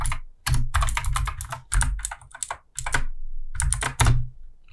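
Quick bursts of close, clattering keystrokes on a computer keyboard, coming in irregular clusters separated by short pauses.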